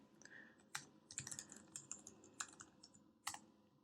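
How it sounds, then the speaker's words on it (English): Keys clatter on a computer keyboard in short bursts of typing, quiet and close, with brief pauses between clusters of keystrokes and no talking. "So we're just going to type in administrators."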